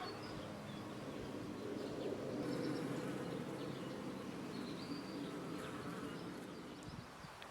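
Bees buzz continuously and fairly close around tree peony flowers, a low droning hum with overlapping wingbeats, faint bird chirps occasionally in the background.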